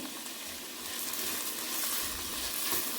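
Capsicum pieces salted and frying in a pan give a soft, steady sizzle with light crackling, close and continuous for a few seconds.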